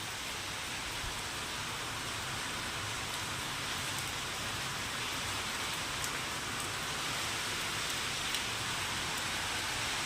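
Steady rain falls on a rooftop in an even, unbroken hiss, with faint scattered drips and no voices.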